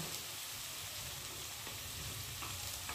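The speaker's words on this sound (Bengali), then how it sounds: "মশলাটা ভালোভাবে আলুর সাথে কষিয়ে নেব" A paste of ginger, cumin, tomato, chili powder, turmeric and salt fries with potatoes, giving a steady close hiss and crackle with soft stirring, no talk.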